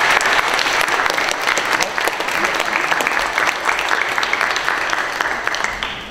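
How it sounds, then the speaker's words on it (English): Steady, dense applause from an audience at a San Francisco town hall at a temple, honoring the event staff; loud and sustained throughout without a break. "Please give them a round of applause."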